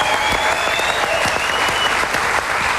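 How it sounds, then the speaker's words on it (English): Audience applause greets a guest singer joining the band at a 1998 Carlton vs St Kilda football event, a dense steady wash of clapping throughout with a faint tone running beneath. "Please, a warm round of applause for Mr."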